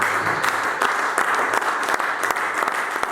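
A church congregation applauds the Lord in sustained, dense clapping that fills the room, loud and steady throughout.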